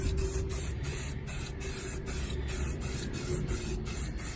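Maxima SC1 high gloss coating hisses from an aerosol can onto a Raptor 700R ATV, a close, continuous spray broken by short pulsing gaps, with no voices.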